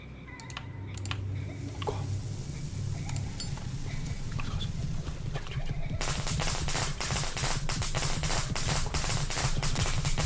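Firecrackers go off in a horror video game set in a shadowy corridor, first a few scattered pops, then a dense, rapid crackling barrage that continues loudly to the end.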